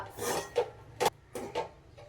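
A spoon scrapes and stirs poha with peanuts and coriander in a metal pan, several short rhythmic scraping strokes with light clinks, close and fairly soft with no talk.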